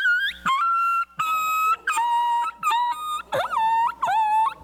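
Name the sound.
dog yelp imitated with a game call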